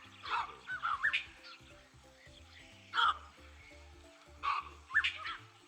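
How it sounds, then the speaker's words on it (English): A baboon gives sharp, bark-like calls in three clusters: a quick run of barks near the start, then single loud barks spaced a couple of seconds apart, with no talk. "Baboon."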